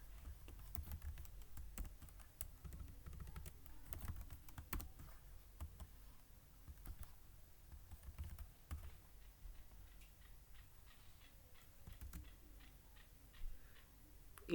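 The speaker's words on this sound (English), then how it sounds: "Let me print it." Typing on a computer keyboard while writing Python code, a quiet, steady patter of key clicks with occasional louder taps, running alone throughout.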